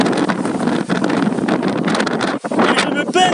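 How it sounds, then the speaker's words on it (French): Strong Mistral gusts buffet the microphone of a Xiaomi Mi Note 3 phone outdoors, a loud continuous roaring rumble with brief dips and a few muffled bits of speech underneath. "beaucoup de vent il y aura dans la vidéo, il fait un Mistral monstre"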